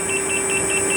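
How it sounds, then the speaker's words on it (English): Rapid high-pitched electronic speed-warning beeps from an electric unicycle riding near its limit repeat in a steady fast rhythm over a continuous hum, close and loud. "Here I'm riding the beeps."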